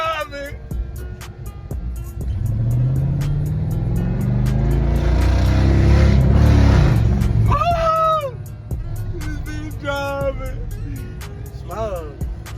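A rebuilt Dodge Charger R/T with a 5.7 Hemi engine drives past, its loud engine rumble swelling to a peak and then fading, with voices talking before and after.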